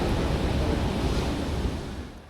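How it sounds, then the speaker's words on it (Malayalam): Sea waves wash continuously onto a beach at sunset near Thalikulam on the Kerala coast, a steady loud broadband roar with some wind noise on the microphone, easing slightly at the end, with no voices. "കടൽ എന്തൊക്കെ പറഞ്ഞാലും ഒരു അത്ഭുതം തന്നെയാണല്ലേ."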